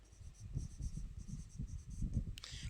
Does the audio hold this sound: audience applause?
no